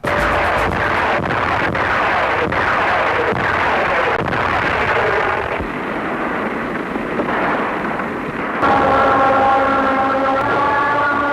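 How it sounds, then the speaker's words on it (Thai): Loud, continuous booming of Japanese artillery fire on US lines in the Battle of Bataan, Philippines, 1942, heavy blasts rolling into one another in a dense, unbroken barrage. "ฝ่ายญี่ปุ่นได้ใช้ปืนใหญ่ในการยิงปูพรมเข้าใส่แนวรบของสหรัฐ"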